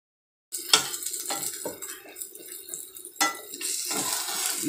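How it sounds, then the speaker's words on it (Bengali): Beaten egg poured into a hot pan with fried eggplant, sizzling steadily up close while a utensil scrapes and clinks against the pan a few times, with no talking. "ডিমটা ওর মধ্যে দিয়ে দিচ্ছি।"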